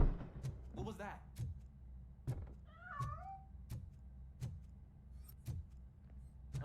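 In the RoboCop: Rogue City video game, a cat meows a couple of times, brief and faint, among regular heavy metallic footsteps thudding at a steady pace, with a short spoken line near the start.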